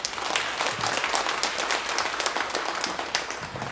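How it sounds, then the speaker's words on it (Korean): A church congregation in Daegu gives loud, dense applause to welcome the pastor to the pulpit during a Sunday service, a continuous crackle of many hands throughout. "큰 박수로 환영해 주시기 바랍니다"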